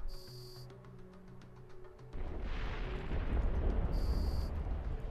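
Ship weapons fire on a lone outpost in EVE Online: a low hum gives way to a loud, sustained rumbling barrage with dense booming energy, while a short high electronic tone sounds at the start and again near the end.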